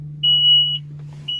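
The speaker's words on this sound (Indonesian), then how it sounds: "Kita matikan dulu alarm fatigue-nya" The fatigue warning alarm in a Komatsu 785-7 dump truck cabin sounds as a steady high-pitched electronic beep lasting about half a second, then starts again. A low constant engine hum runs underneath.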